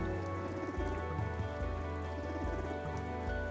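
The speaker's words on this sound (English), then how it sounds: "the sound of rain in this area and thunder is so soothing" Steady video game rain patters on a surface, soft and continuous, with a low repeating hum underneath and no voices.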